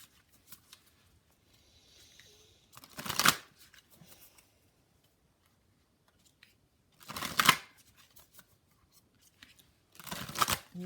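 A Nature's Whispers tarot deck is shuffled in three separate bursts of crisp riffling, each lasting about a second and set apart by quiet pauses, close and fairly loud with no voice.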